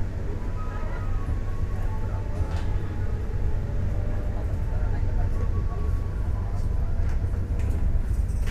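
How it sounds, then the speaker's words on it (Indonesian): Steady low rumble and rhythmic rolling of the Pangrango passenger train running from Sukabumi toward Bogor, heard from inside the carriage, continuous and even with faint clatter and a voice talking over it. "Kereta api Pangrango yang saya naiki sudah diberangkatkan dari stasiun Sukabumi, dan ini menuju ke arah stasiun Bogor."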